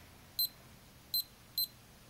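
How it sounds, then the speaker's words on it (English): Three short, sharp electronic beeps from a Vestal Digital Doppler DDL001 digital watch, evenly spaced and fairly close, each a bright high-pitched chirp over quiet room hiss. "I really wish we could turn off that beep."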